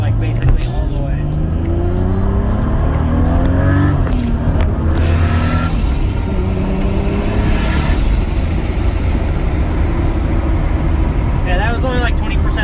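A Toyota Supra with a T56 manual transmission swap accelerating on light throttle, loud, close engine drone rising in pitch with a brief gear change partway through and steady road noise.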